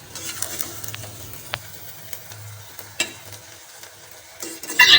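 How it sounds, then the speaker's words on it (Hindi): A spoon gently turns sweet rice (zarda pulao) through hot sugar syrup in a pot, giving soft intermittent scrapes and clicks over a faint low simmer, with a louder clatter near the end. "चम्मच के साथ चावलों को अच्छे तरह शीरे में मिक्स करें ताकि शीरा जो है चावलों को अच्छी तरह लग जाए"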